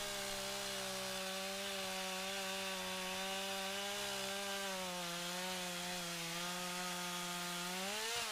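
A chainsaw runs steadily at close range as it cuts into a tree trunk for firewood, its droning pitch dipping and wavering under load, then rising at the end.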